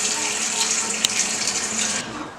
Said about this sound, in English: And just letting the pot fill up with water.